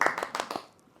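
A handful of quick, close hand claps ring out in a short burst and then stop, leaving a brief quiet tail.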